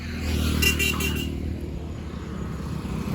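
On a roadside, a motor vehicle rumbles steadily past, its low engine drone fairly loud and constant, with a brief higher whine early on as it goes by.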